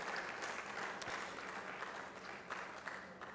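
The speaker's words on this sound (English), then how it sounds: "So another round of applause," A crowd at a data science chapter launch event in Uganda applauds with steady, dense clapping that stays fairly distant and soft throughout.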